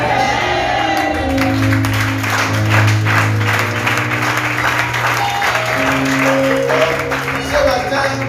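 A church congregation applauds with dense, sustained clapping and a few cheers, loud and close, while a voice and sustained musical tones run underneath.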